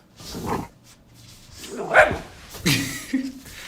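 A pet dog gives a few short barks and yips up close in a home, mixed with people talking and moving around nearby.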